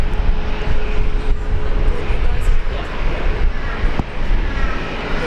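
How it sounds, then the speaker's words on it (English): Heavy jet airliner rolling for takeoff at Brisbane Airport, a loud, steady engine roar that holds throughout, heard from nearby with talk underneath. "Oh, you got your heavy rolling now?"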